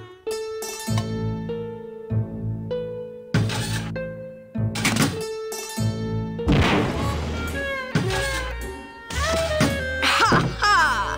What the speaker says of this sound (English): It was completely destroyed by our own detonator, so I can't tell what kind of bomb it was.